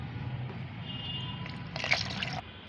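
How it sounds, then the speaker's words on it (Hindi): Plain water is poured into a liquid organic plant fertilizer, giving a soft trickling splash that swells briefly near the end over a low steady background hum, faint and close, with no talk. "इसमें मैं सादा पानी मिला देती हूँ"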